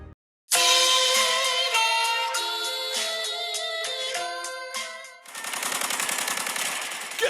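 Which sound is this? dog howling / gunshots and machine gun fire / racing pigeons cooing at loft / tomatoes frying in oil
gunshots and machine gun fire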